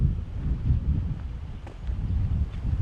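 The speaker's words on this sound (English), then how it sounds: "Bit windy here, guys." Gusty wind blows along the Malta coast near a coral lagoon at l-Ahrax tal-Mellieha, a low rumbling buffet on the microphone that swells and eases throughout.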